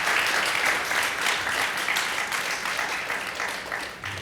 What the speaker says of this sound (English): Can we have a quick round of applause for them?